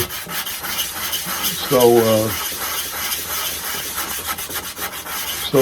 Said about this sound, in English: I always hit that with 80 grit on this pad